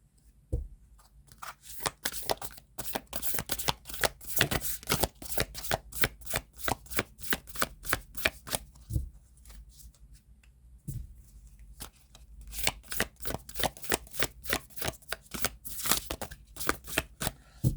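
Tarot cards are shuffled by hand in quick runs of crisp riffling and slapping, close and clear, with brief pauses between bursts and no talking.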